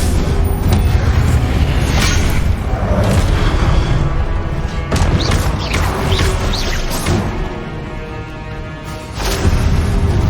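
The Incendio fire spell bursts out in Hogwarts Legacy with loud booming blasts and crackling whooshes over a dense, constant wash of game sound, several sharp hits standing out near the middle and end.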